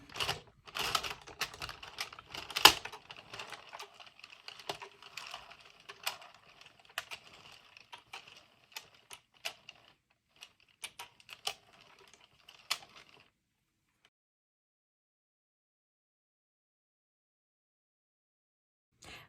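Addi or Sentro circular knitting machine cranking rounds of waste yarn, a fast ticking clatter of plastic needles, close and fairly faint, gradually thinning out and stopping near the end, no talk.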